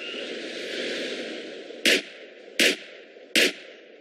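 Three loud, sharp gunshots ring out in a Grove Street versus Ballas gang fight video game, spaced under a second apart over a steady background hum.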